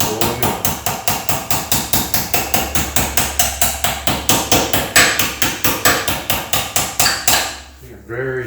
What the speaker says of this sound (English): I can do it just as quick with a hammer and dolly.